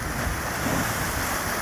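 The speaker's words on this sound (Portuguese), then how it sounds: "Menino batendo água no muro da casa" Ocean waves surging and splashing against the wall of a house on an eroded beach, a dense roar of water close by mixed with wind buffeting the microphone.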